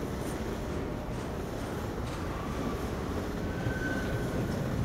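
A train rumbles past in Half-Life 2, a steady, loud low roar of wheels on rails with faint metallic squeals rising briefly over the constant din.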